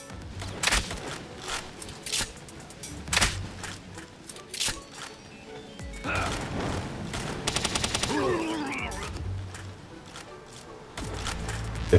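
Gunfire rings out in PalWorld as sharp shots and short bursts, some rapid like automatic fire, scattered irregularly and moderately close, mixed with thumps and scraping.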